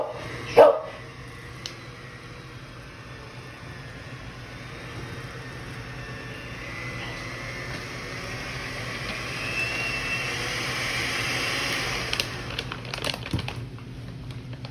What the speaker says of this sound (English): You will hear my dog in the background.